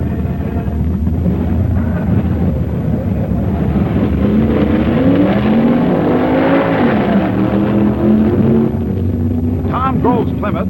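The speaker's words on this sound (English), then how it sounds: "Bonner's Mustang wins as the veteran Prophet encounters shifting problems" Mid-1960s drag racing on a quarter-mile strip, including a Mustang, with loud engines roaring and revving as the cars accelerate, the pitch climbing and shifting under a narrator's voice.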